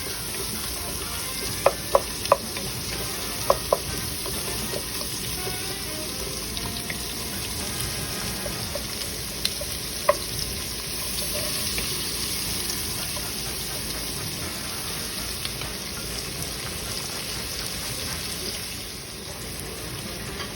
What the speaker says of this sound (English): Mix that around good and let it brown a little.